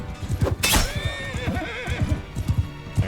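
A horse in the game Mount & Blade II: Bannerlord gives one loud, close whinny amid clopping hooves and the clatter of battle.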